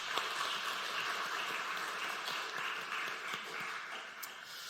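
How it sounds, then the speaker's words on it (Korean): Sustained applause from a church congregation at a Wednesday worship service, a dense steady wash of clapping filling the room without pause. "수요 경배 찬양팀 축복하고 격려하는 박수 하도록 하겠습니다"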